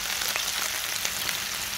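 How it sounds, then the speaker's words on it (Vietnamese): Snakehead fish pieces fry briefly in hot oil in a pan, giving a steady, close sizzle with scattered crackles and pops throughout and no talking. "Cá mình chỉ cần chiên sơ qua, không cần chiên kỹ."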